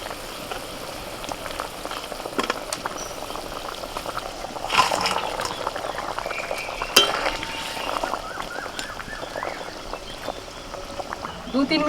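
Steady bubbling of gravy simmering in a pan, with occasional clinks of a utensil and a brief splash midway.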